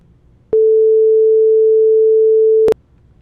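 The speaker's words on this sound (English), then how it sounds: "Okay, so we have our sine wave." A pure, steady synthesized sine wave tone switches on abruptly with a click, holds unchanged for about two seconds, then cuts off with another click.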